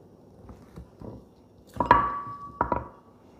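A knife cuts through a block of unsalted butter on a board in a home kitchen, giving a few soft taps and thuds, one short faint ringing clink, then two firmer knocks close by.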